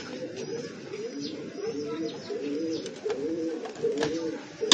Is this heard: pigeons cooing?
yes